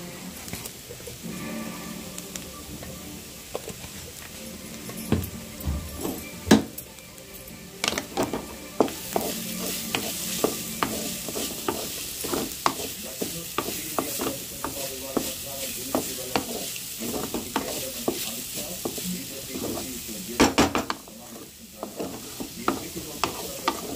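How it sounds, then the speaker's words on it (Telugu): Food frying in a pan with turmeric and salt is stirred repeatedly. A spoon scrapes rhythmically over continuous sizzling, and faint sheep bleats sound now and then in the background. "సాల్ట్ వేసి బాగా తిప్పుకున్నాం కదండి."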